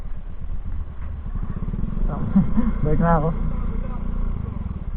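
A motorcycle engine chugs and idles on a rough, rocky road with a steady low throb, while someone talks over it at close range.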